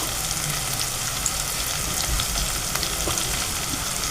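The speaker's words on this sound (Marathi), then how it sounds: "मस्तपैकी कांदा ढवळून गुलाबी करून घेऊया. आणि त्यामध्ये टाकू आपण थोडीशी कांदा लसूण मसाला" Onions frying with onion-garlic masala in a pan for a potato, pea, cauliflower and drumstick curry, a loud, steady close sizzle with faint scraping as the mix is stirred.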